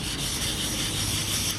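Steady, continuous rubbing from wet sanding a rust spot on a car body panel, an even close-up scrubbing texture that holds at a constant level without breaks.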